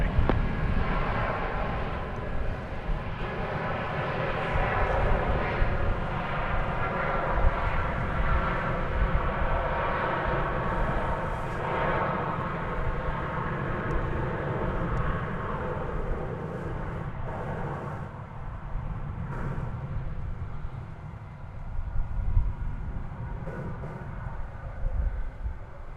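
An airplane takes off from a DFW Airport runway, a broad, roaring engine rumble that holds for a long stretch and slowly shifts in tone, heard from a distance with no talking.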